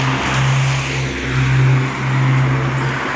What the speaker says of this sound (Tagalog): Dito sa UK, uso yung ano, yung maingay ang tambutso